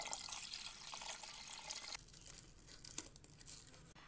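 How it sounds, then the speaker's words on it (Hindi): About a litre of water is poured into a large vessel holding ground spice paste for pani puri, a loud continuous splashing pour that stops abruptly midway, followed by quieter trickles and light clinks. "और अब इस एक बड़े बर्तन में डालेंगे इसे और साथ ही इसमें डालेंगे लगभग 1 लीटर पानी।"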